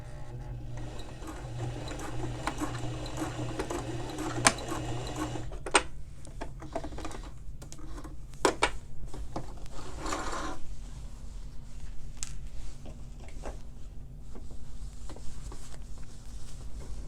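Sewing machine stitching a suit sleeve, running forward and backward in short bursts: a close mechanical whirring chatter that starts and stops several times, with brief pauses and clicks between runs and no talking.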